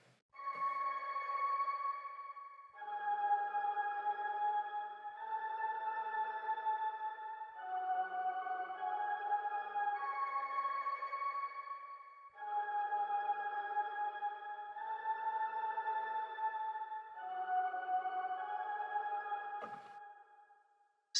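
Sustained synth pad chords shift every couple of seconds, smooth and tonal with a soft airy shimmer, playing alone.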